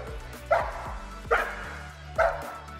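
A large guard dog barks three times, deep and loud at roughly even intervals, with a low rumble between the barks.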